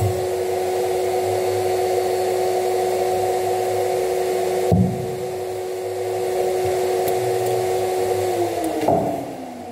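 A Graco 9.5 Pro Contractor HVLP Edge 2 Plus turbine spray gun sprays paint with a fine fan, giving a loud, steady airy turbine whine with a constant tone that shifts slightly near the end.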